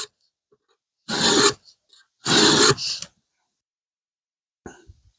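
A 5160 carbon steel knife blade is sharpened by hand, two loud, close, rasping strokes about a second each separated by silence, then a faint scrape near the end.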